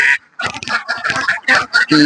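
Ducks in a crowded duck farm shed give loud, nasal quacks in quick choppy bursts close by, with little pause between calls.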